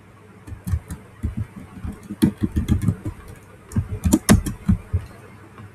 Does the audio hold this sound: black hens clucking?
no